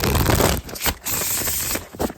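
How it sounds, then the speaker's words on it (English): A tarot deck is shuffled by hand up close, crisp riffles and scrapes of cards in bursts broken by brief pauses. "I'm actually going to shuffle in front of y'all so that way y'all see what the gig is"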